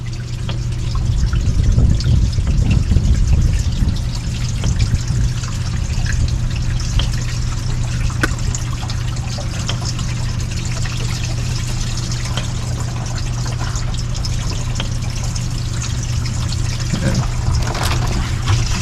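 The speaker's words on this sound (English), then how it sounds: "Open it up. watch the water pour." Water from an RV holding tank pours steadily out through the sewer pipe after the gate valve is opened, a continuous rushing, trickling flow at moderate volume that stays even throughout.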